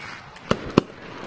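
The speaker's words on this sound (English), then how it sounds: "Oh, fireworks!" Fireworks at the beach in the VR game Gorilla Tag go off as two quick, sharp pops about a quarter second apart over a soft background hum.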